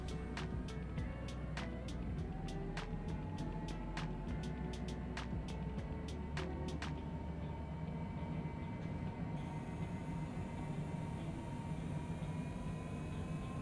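An airliner in Microsoft Flight Simulator beginning its takeoff roll out of Havana, Cuba: a steady low engine roar with a slowly rising whine, and a run of sharp rhythmic clicks early on that stop partway through.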